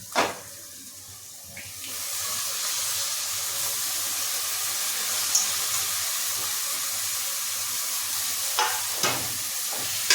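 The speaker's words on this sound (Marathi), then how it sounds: "आता आपण यात घोळीची भाजी टाकायची." Purslane greens (gholichi bhaji) sizzle steadily in a hot pan while being stirred, a continuous close hiss broken by a few scraping knocks of the spatula.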